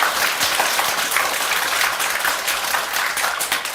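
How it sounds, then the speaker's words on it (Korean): A crowd at a political talk event applauds, a thick, even wash of clapping from many hands that runs steadily and loudly from start to finish. "박수 한번 주시죠"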